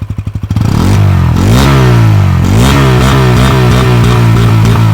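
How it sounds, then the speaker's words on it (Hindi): Bajaj Pulsar N160 motorcycle exhaust revved up from idle: a few low idle pulses, then a loud, close, sustained rev with rising and falling pitch sweeps, no talking. "अब देते हैं इसमें थोड़ी सी रेव और आवाज़ सुन के बताना बेस कैसा लगा आपको"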